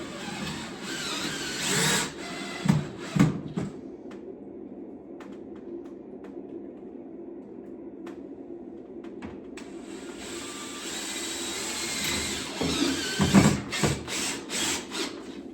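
Power drill driving screws to secure a soundproof window over a slider, with short whirring bursts near the start and end separated by quieter clicks and light handling of parts, heard close up.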